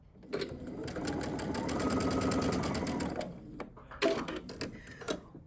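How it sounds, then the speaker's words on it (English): A sewing machine stitches quilt-block fabric in a fast, close mechanical whir that runs for about three seconds, then stops and restarts in short bursts. "make sure that the fabric is in the right direction, and continue sewing."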